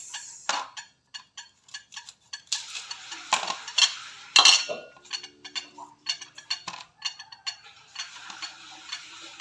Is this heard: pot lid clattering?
yes